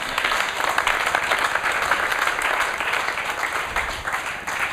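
A church congregation applauds steadily throughout, dense and sustained clapping filling the room at a loud, even level.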